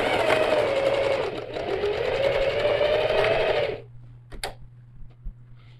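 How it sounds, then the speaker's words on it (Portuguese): A sewing machine runs in a fast, steady whirring burst for nearly four seconds as it stitches a backpack strap adjuster onto a panel, then stops, leaving a low hum and a few light clicks of handling. "fazer a costura de segurança para fixar esse meu regulador de alça no painel"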